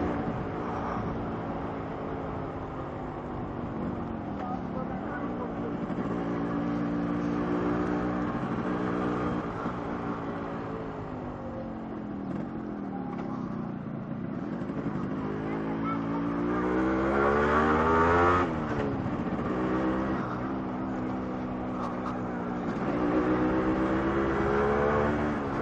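Yamaha RX 100 two-stroke motorcycle engine droning steadily while riding, its buzzing pitch rising and falling with throttle changes and wind noise throughout, close and continuous with no speech.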